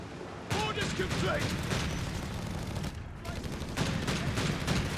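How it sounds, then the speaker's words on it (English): Grenade launcher fire and rapid gunfire from a Company of Heroes 3 desert battle between Afrika Korps and British forces, dense overlapping bursts and pops throughout with a brief lull midway, a commentator talking over the combat. "Grenade launcher shoots, whips."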